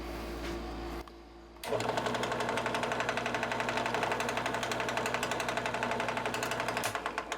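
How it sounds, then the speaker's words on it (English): A power drill with a 1/8-inch bit whirs briefly, pauses, then runs steadily for several seconds with a rapid rhythmic chatter as the bit bores into a hidden-tang knife, close by. "The drill bit we're using is an 1/8 of an inch drill bit"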